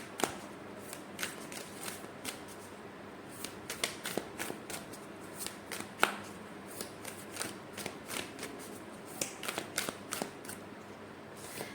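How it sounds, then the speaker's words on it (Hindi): A deck of advice cards being shuffled by hand, giving a quiet, steady run of crisp riffling snaps and soft card flutters for the whole stretch, with no talking. "हाँ आपके लिए एडवाइस कार्ड निकालते हैं"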